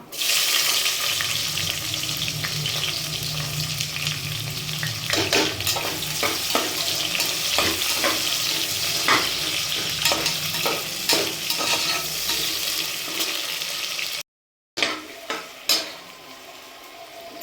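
Onions sizzling and frying in hot oil for chicken biryani, a steady crackling hiss with scraping stirs throughout, a brief cut near the end, then more stirring clatter and sizzle.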